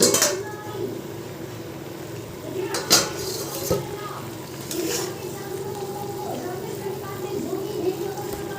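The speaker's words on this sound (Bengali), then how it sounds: "ঢাকনাটা তুলে দেখে নিই যে সেদ্ধ হয়ে গেছে" A pot lid lifted off to check food boiling on the stove, a few metallic clinks and clanks of lid and utensils over a bubbling background, with someone talking.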